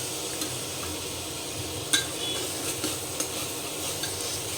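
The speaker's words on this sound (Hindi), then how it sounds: "इसको अच्छे से भून लेते हैं।" A masala of spices and chopped tomato sizzles in a pan while being stirred, with a soft continuous fry and a few sharp scrapes and clinks of a spoon against the metal.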